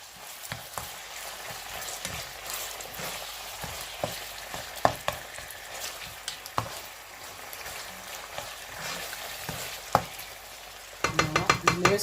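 Basmati rice sautéing in a pan with turkey and vegetables, giving a continuous soft sizzle with scattered clinks and scrapes of stirring, and busier clatter near the end.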